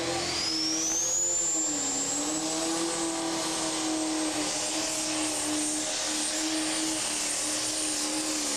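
A Pro Stock pulling tractor engine roars continuously at an NTPA tractor pull in Henry, Illinois, with a high whine climbing over a steady droning rumble, loud and sustained, without V8 character.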